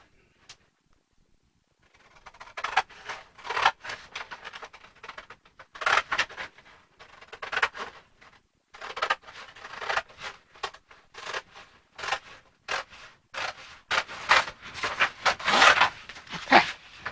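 Scissors cut through a paper pencil skirt pattern in a series of crisp snips and rustles, close and fairly loud, with short pauses between bursts and a quiet start.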